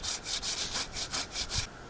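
A hand saw cuts through a wooden log in steady back-and-forth strokes, about eight rasping pulls in under two seconds, close and fairly loud, with no talking.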